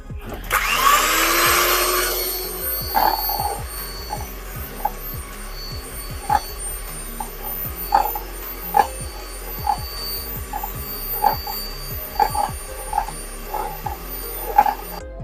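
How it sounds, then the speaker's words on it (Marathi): An electric beater whirs steadily through whipping cream in a bowl, a constant motor hum with rhythmic clicks and knocks as the beaters touch the bowl, with no voices. "आता आपल्याला ही चांगली व्हिप करून घ्यायची आहे दोन ते तीन मिनिटासाठी"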